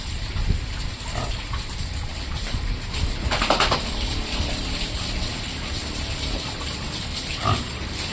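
Mixed breed pigs in a pen, grunting and snorting repeatedly at close range over a busy background of shuffling and clanking, with a few louder squeals standing out.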